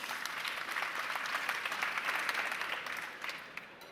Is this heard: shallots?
no